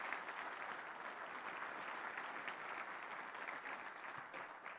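Sustained audience applause at a union young-workers conference, a dense steady wash of many hands clapping together at moderate distance, continuing unbroken with no voices on top.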